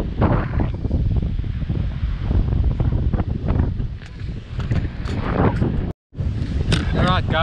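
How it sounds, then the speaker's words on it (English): Strong coastal wind buffets the microphone on the shore at Port Elizabeth, a loud continuous rumble with gusts, under someone talking throughout and a brief dropout near the end. "The wind is quite strong. I don't know if you can hear me."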